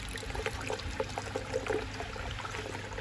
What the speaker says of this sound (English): There's some pressure there pumping that water through the vortex.